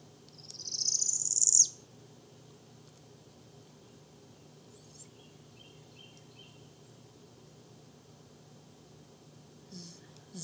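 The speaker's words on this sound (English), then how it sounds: "This is your Northern Parula." A single buzzy, rising trill of a Northern Parula song, a bit over a second long, followed by quiet with faint insect hum.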